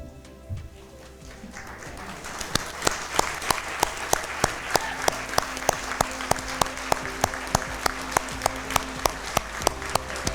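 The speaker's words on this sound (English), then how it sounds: "please stand up as well for one last round of applause" Applause at an award gathering for fire and EMS personnel and cardiac arrest survivors, a steady crowd clapping that settles into rhythmic unison claps, with a held tonal note underneath and brief murmuring early on.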